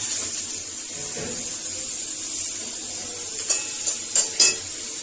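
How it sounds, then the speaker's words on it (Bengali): Pointed gourd (potol) fries in oil in a pan with a steady, close sizzle throughout, broken near the end by a few sharp clinks and scrapes of a utensil stirring against the pan. "দেখো পটলগুলো বসতে বসতে দিয়ে দিলাম, পটলগুলো ভাজতে।"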